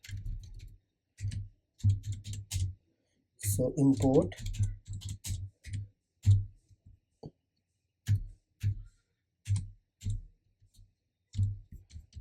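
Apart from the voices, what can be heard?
typing on a computer keyboard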